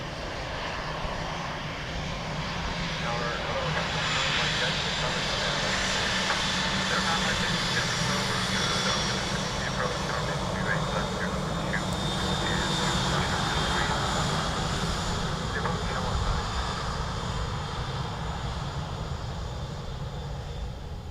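An aircraft at Dublin Airport rumbles steadily through the full stretch, a broad continuous engine roar at moderate distance without obvious rise or fall.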